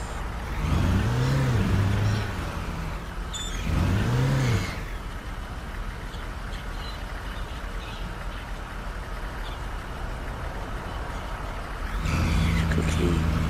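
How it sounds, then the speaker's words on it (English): An old bus engine rumbles and revs in two rising surges, then settles into a steady idle before revving again near the end, with people talking over it. "That sounds like an old bus."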